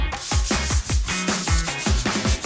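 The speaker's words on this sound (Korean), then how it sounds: "샌딩 작업을 합니다. 220방" Sandpaper of 220 grit rubbed by hand over a painted surface in a shop interior, heard as steady back-and-forth rasping strokes at an even quick rhythm, close and fairly loud with no talking.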